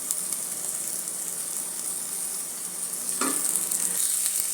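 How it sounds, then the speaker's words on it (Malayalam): Aval uppumavu frying in a pan, a continuous close sizzle with a single sharp scrape of a spoon stirring partway through, and the hiss growing slightly louder toward the end. "ഇതൊക്കെ ചേർത്ത് നന്നായി ഇളക്കി കൊടുക്കുക."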